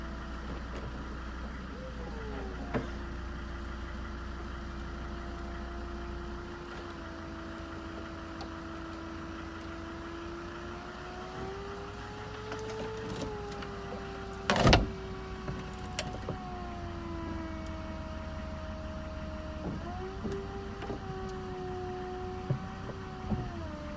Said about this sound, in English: And you should see the action of the roof